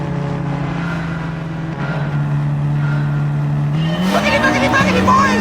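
Race cars in the Gran Turismo video game, engine drone holding a steady pitch then rising as the car accelerates, loud and close with a faint voice underneath.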